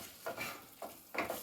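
Capsicum is stirred into gravy in a pan in three quiet, soft scraping strokes over a faint simmer.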